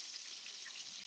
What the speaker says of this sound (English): So we're just going to let that sizzle here for a minute.